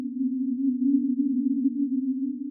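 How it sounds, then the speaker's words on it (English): Detuned sine waves from the Meld synth in Ableton Live 12 make a steady low tone with a gentle warbling pitch movement, sustained alone. "It's like multiple sine waves just being detuned."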